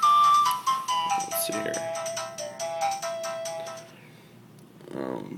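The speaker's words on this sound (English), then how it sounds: "Here's my main ringtone right now, just because it's my fave." A custom ringtone plays on a jailbroken metal-bodied iPhone 4. It is a loud, bright electronic melody of quick repeated notes that stops after about four seconds, and someone says a few words near the end.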